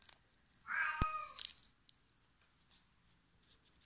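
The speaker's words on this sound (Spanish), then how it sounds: "perdón por ese ruido, perdón otro gatito" A cat meows once, a short, clear harmonic call standing out in a quiet indoor room, followed by a few faint rustling sounds.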